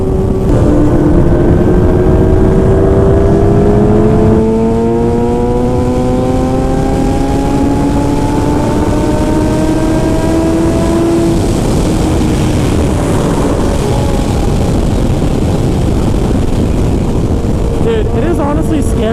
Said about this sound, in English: honestly scary how easy it is to hit 150 on this motorcycle